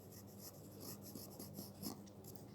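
Pen or chalk writing out a number name during a first-grade math lesson, a soft continuous scratching and rubbing, close and faint.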